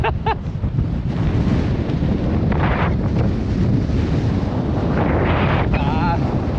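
Strong wind gusts across the open Patagonian desert, roaring loudly and continuously against the microphone, with a voice and laughter breaking through briefly.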